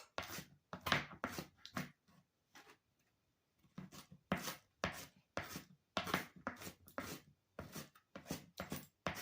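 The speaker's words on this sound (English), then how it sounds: "We have our chopped onions here. And just a rough chop." Onion roughly chopped into medium pieces with a knife on a cutting board, a steady run of firm, close knocks in quick bursts with a short pause midway.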